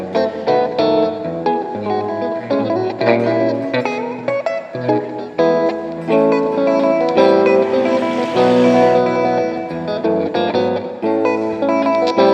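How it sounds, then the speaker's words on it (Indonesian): A bass guitar walks a steady line through a full outdoor band performance, carrying on continuously and fairly loud for the whole stretch with no talk over it. "Nah ini main walking bass ya."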